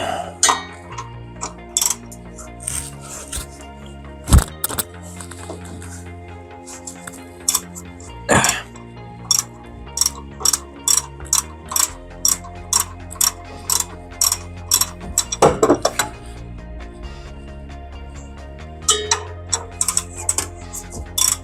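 Ratchet clicks crank in quick rapid runs while the alternator belt is loosened on a 1979 Lincoln Mark V, with a few louder clunks and metallic knocks breaking up the close, dense ratcheting.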